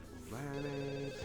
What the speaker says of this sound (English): That's my phone call that I'm late to work